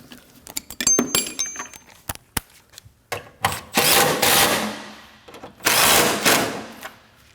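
On a 2011-2016 Kia Optima front bumper cover, a power tool whirs in short bursts and longer runs, tightening two 10mm bolts; metallic clicks and clinks fall between the runs.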